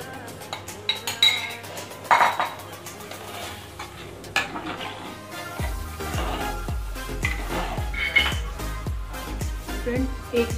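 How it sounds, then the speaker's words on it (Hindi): A spoon stirs and scrapes Chicken Manchurian sauce thickening in a pan, with repeated clinks against the metal and a faint sizzle underneath, while someone talks over it. "और इसे धीरे धीरे हम इसी तरह से चलाते रहेंगे। तब तक चलाएंगे तब तक ये पूरी तरह से गाढ़ा ना हो जाए।"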